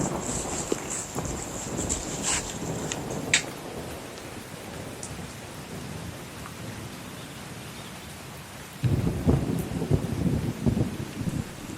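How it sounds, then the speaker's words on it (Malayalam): Heavy evening rain with thunder: a steady, dense hiss of downpour, with a deeper rumbling swell rising in the last few seconds and a few faint voices beneath. "എടാ മഴ തിരിക്കുന്നില്ലല്ലോടാ."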